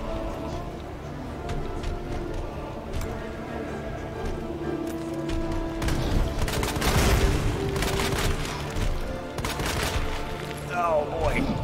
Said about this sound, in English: that gun sure is a lot weaker than the one I was using earlier